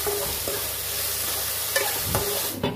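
Chickpeas and dhekia fern greens frying in a pan with garam masala while a utensil stirs them, giving a steady close sizzle broken by several scraping stirs.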